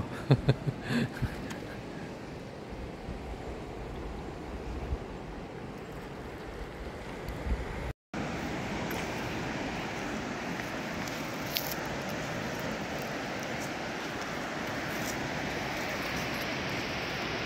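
Steady broadband wash of sea surf on a beach at Lalud Beach Resort, continuous and fairly loud with a brief dropout midway, no talking.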